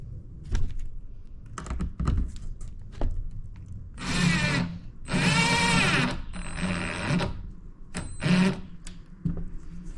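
A power drill drives screws into wooden camper-van kitchenette cabinets, with short bursts of whirring and grinding between clicks and knocks of handling, the longest run lasting about a second, close up.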